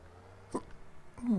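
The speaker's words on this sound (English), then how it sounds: "Excuse me, got the hiccups." A single short hiccup sounds close and fairly quiet, a sharp catch in the throat that stands out against a faint game soundtrack.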